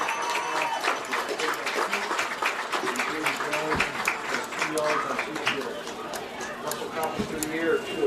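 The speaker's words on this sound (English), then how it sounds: "one more big Warrior round of applause for these Warrior athletes and their hard work" A stadium crowd claps and cheers at a high school football game in Winamac, a steady wash of applause lasting the whole stretch, with a loudspeaker voice and scattered chatter underneath.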